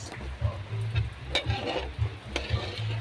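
Biko sticky rice cake mixture, sweetened with sugar and ube condensed milk, stirred in a pan with repeated scraping strokes in a steady rhythm, accompanied by a low sizzle and close, moderately loud bubbling.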